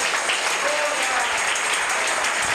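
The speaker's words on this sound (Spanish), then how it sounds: "Dale un aplauso al Señor." Church congregation applauding together in a dense, even wash of clapping that holds steady throughout.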